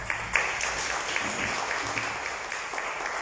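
An audience at a church conference gives a short round of applause, a steady, dense patter of many hands clapping together throughout.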